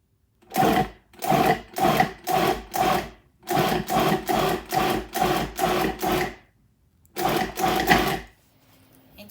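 A food processor chops egg for an egg and corned beef stew, running in loud, pulsed bursts in quick groups with short pauses between them, close by.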